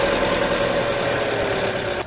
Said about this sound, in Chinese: 打火的时候叽叽响